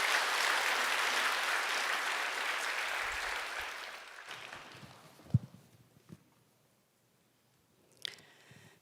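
A church congregation claps to welcome a deaconess to the front for her testimony, dense applause that fades out over a few seconds, followed by near silence with a couple of small knocks.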